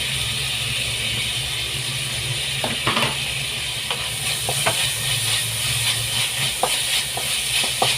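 Green chilies fry in a hot pan with a steady, close hissing sizzle, broken by a few sharp clinks and stirring knocks, and no one talks.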